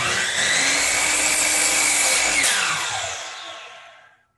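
A miter saw making an angled cut through a board, a loud, close, steady high whine that holds for a few seconds and then spins down to silence.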